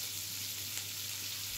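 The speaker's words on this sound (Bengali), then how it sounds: "তারপর এগুলোকে একসাথে খুব ভালোভাবে ভেজে নেব।" Beans, tomatoes, onion, garlic and green chilies fry together in a pan, giving off a soft, even sizzle that holds steady for a second and a half, with no talk.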